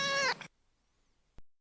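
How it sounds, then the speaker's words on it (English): A single short, rough cat meow, loud and close, followed by silence and a faint click. "this particular cat's meow kind of sounds like it goes up and down a keyboard"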